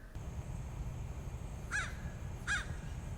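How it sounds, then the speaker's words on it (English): A crow outdoors gives two distinct caws about a second apart over a steady low hum. "And I got a crazy crow outside. If you can hear it squawking away at any point in this video,"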